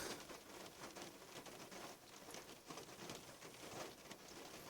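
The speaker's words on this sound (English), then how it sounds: "that rain is really coming down" Steady rain pattering on a hard surface, a dense even hiss of drops with no voices, fairly quiet.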